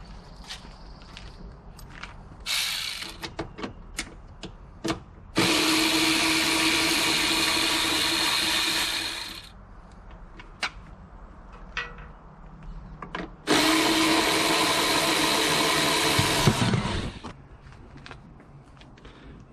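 A power tool removes the 10 mm tail light bolts on a 1998 Jeep Cherokee XJ. It whirs loudly in two sustained bursts of a few seconds each, with clunks, clicks and handling noise from the work between them.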